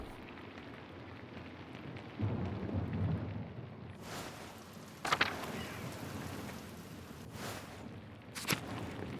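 Rain and a thunderstorm in the video game Pentiment: a steady hiss of rainfall with low rumbling, broken by several sharp thunder cracks and booms spaced a few seconds apart, with no speech.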